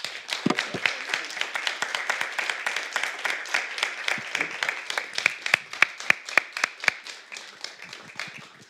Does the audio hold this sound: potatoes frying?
no